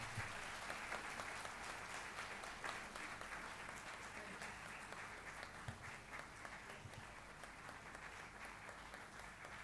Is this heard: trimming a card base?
no